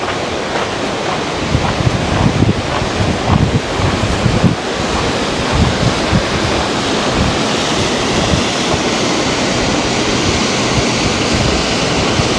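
A rushing creek in the Grand Canyon roars steadily and loud up close, a dense continuous wash of water noise with some wind buffeting the microphone and no talking.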